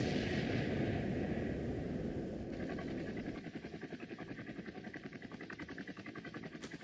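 A helicopter in the video game Roblox, first a loud whooshing rumble, then a steady rapid rotor chop that continues evenly through the second half.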